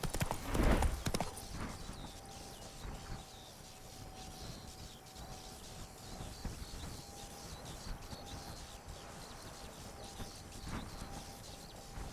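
Roach, a horse in the video game The Witcher 3, gallops with rapid rhythmic hoof clip-clops close by, the pounding steady and continuous after a brief loud burst at the start.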